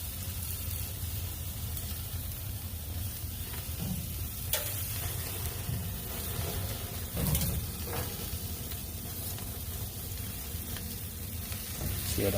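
A picanha sirloin cap steak, basted with compound butter, sears on a Hasty Bake Legacy grill, giving a soft, steady sizzle with a few sharper pops and ticks, faint and close.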